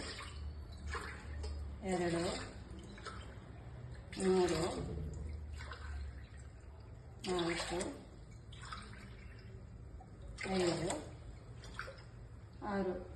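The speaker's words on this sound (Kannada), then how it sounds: "ನಾನು 1 ಗ್ಲಾಸ್ಗೆ 3 ಗ್ಲಾಸ್ ನೀರು ಅಷ್ಟು ಥರ 6 ಗ್ಲಾಸ್ ಹಾಕ್ಕೊಂತೀನಿ" Glassfuls of water are poured one after another into a pot holding two glasses of chana dal, six glasses in all. Each pour is a short, soft splash at a steady interval while a person counts aloud between them.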